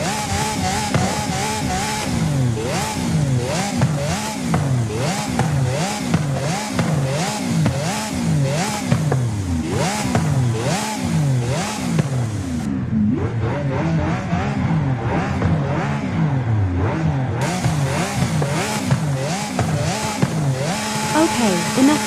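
A Lamborghini Aventador SV engine in Forza Horizon 5 revs repeatedly, climbing and dropping in a fast rhythmic cycle and bouncing off the rev limiter, loud and close, with a brief dip in the middle.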